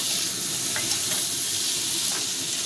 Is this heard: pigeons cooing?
no